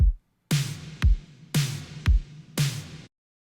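A synthwave drum stack loops with kick, snare and a light reverb tail, five or six hits in a steady mid-tempo pattern, played alone with no voices.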